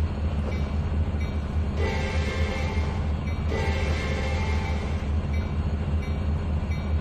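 Train cars in the Trainz 2019 video game rumble steadily along the track with a continuous low roar and metallic rattling, close and loud, with no voices.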